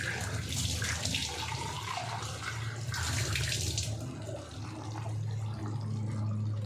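Water pours in a continuous, fairly loud stream into a pot of cooking potatoes, splashing steadily with no talking.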